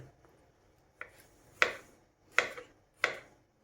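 Garlic cloves chopped into big pieces with a knife on a cutting board in a home kitchen, four separate sharp blade strikes spaced about a second apart, close and clear with quiet between.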